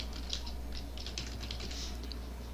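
Quiet, rapid keystrokes on a computer keyboard while typing into WordPad on Windows 10, an irregular soft clatter of taps heard alone at low level.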